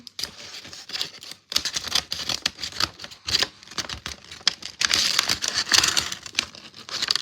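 A gift package being cut open, with dense crackling, crinkling plastic and paper rustles and sharp snips in irregular bursts close to the microphone, no talk.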